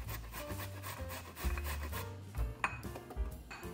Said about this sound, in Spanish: Voy a usar una zanahoria, pero como es delgadita la voy a usar completa y la voy a rallar por la parte fina del rallo.